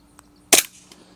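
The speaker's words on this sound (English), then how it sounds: "going to attempt to see if we can get these record-breaking FPS shots here" A single sharp crack from a budget air rifle plinker fired in a backyard, close and loud, with a short fading tail and quiet surroundings around it.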